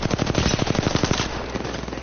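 Rapid automatic gunfire in a video game, a loud burst of about a dozen evenly spaced shots that then trails off into a rattling decay, with no talk over it.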